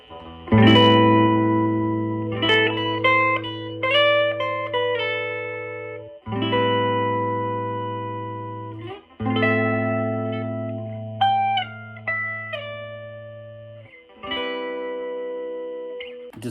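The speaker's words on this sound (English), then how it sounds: "Distortion." A vintage electric guitar plays through a distortion effect, its bridge pickup selected, ringing out sustained chords and bent lead notes in several phrases separated by brief pauses, loud and alone with reverb-like tails.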